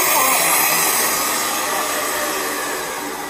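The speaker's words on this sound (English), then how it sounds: "But when you put the vacuum cleaner into your case," Vacuum cleaner set to its lowest suction while cleaning the inside of a stringed instrument case, a steady loud broadband hiss and whoosh throughout, easing off slightly toward the end.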